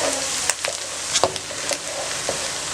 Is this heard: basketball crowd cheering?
no